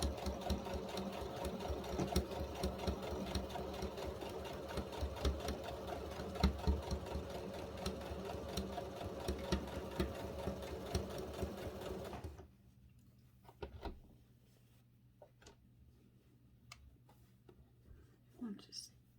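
A sewing machine runs steadily for about twelve seconds while stitching a sewing machine cover, a loud continuous whir of rapid stitches that then stops, leaving quiet handling sounds and someone speaking softly.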